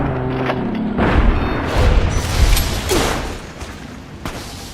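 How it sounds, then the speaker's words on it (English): Rocket explosions in the PC game Fallout New Vegas, played with mods: a few heavy, rumbling booms close together with debris-like crackle, loud and near, fading out toward the end. "Oh my god, it's shooting rockets at me!"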